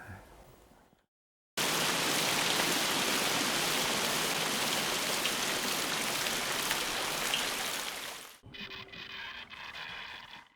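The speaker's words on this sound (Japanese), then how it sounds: "雨がモノラルでこう降ってるんじゃなくて全編周りに包まれたいようにしたかった" Steady, dense rain pours down for a film soundtrack, a loud continuous hiss that surrounds everything after a brief silence and ends in a quieter, more textured patter.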